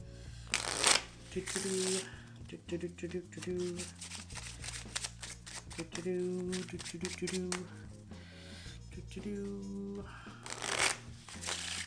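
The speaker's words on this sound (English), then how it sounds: "Let me actually really shuffle it up." Playing cards are shuffled in quick riffling bursts with soft clicks and taps, close up, alongside intermittent quiet handling.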